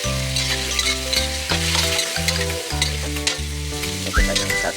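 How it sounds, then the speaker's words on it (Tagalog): Chopped onions sizzle and crackle steadily in hot oil in a frying pan, with occasional stirring scrapes, close and fairly loud, no talking. "nalagay na natin ang sibuyas"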